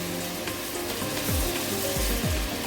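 Green chillies with salt and turmeric sizzle and fry in a pan while a utensil stirs them, making a close, steady crackle with scraping strokes and no talk.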